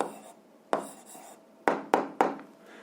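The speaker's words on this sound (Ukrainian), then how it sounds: "записуємо відповідь, пишемо відповідь" A pen writes an algebra answer on paper with soft scratchy strokes, then several sharp taps land in quick succession near the end, close and fairly quiet.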